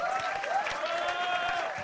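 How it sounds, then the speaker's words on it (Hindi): Applause from a live comedy-show audience keeps up a steady patter of clapping, with a sustained tonal sound running over it and some crowd noise underneath. "है एक बार जोरदार तालियां फॉर हिम"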